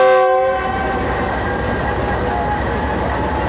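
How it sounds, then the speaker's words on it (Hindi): The Ghouri Express 113UP on the Faisalabad to Lahore route gives one brief, weak departure whistle with a harmonic tone that cuts off quickly, leaving a steady low rail rumble. "अब डिपार्चर विसल होगा।"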